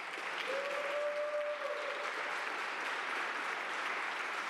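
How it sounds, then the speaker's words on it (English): An audience applauds at a Cleveland City Council meeting, a steady, distant-sounding wash of clapping that holds throughout at low level, with a brief tonal whistle or squeal in the middle. "Let's give Officer Mercado a round of applause."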